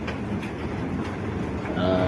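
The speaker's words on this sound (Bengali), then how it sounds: "ট্রেনটি দেখেন আমাদের চলছে" A toy train ride carrying passengers through a children's park in Barishal gives a steady, close rumble with faint rattling that runs continuously throughout.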